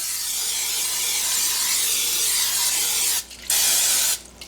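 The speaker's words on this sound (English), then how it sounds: "First, we're going to spray our slow cooker" A can of cooking spray hisses steadily into a slow cooker being greased before sliced mushrooms, onion and chicken stock go in, one long continuous spray broken by two brief pauses near the end.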